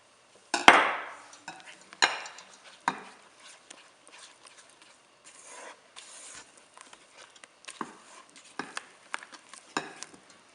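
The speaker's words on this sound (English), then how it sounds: "Now I'm gonna add little by little my dry ingredients to the wet ingredients and mix it" Dry ingredients being worked into wet batter for a no-yeast Easter bread, heard as close, intermittent scraping and rubbing strokes with short pauses between them, no talking.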